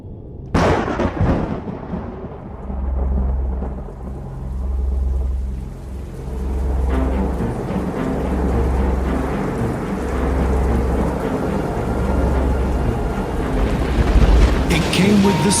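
Thunderstorm with heavy rain: a sharp close thunder crack at the start, then steady dense downpour with rolling rumbles pulsing underneath, growing louder and fuller toward the end.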